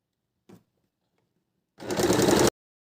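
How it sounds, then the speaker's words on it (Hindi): A sewing machine with a regular presser foot stitches horsehair braid along a fabric edge. One brief click comes first, then after a pause a short, close burst of rapid stitching that stops abruptly. "हम इसको सिलना शुरू करते हैं।"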